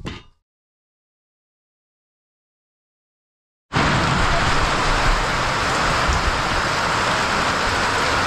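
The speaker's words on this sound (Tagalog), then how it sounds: "Hindi makababa si Penggay kasi sobrang lakas ng ulan." Heavy rain pouring down, a dense steady hiss that starts abruptly after a few seconds of silence, following a brief sound at the very start, and continues loud and unbroken to the end.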